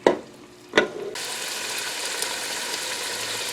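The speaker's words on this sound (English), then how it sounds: "It's starting to sizzle." Chicken pieces seasoned with parsley, thyme and garlic start to sizzle in a Ninja Foodi, two sharp clacks followed by a steady, close frying hiss that holds constant.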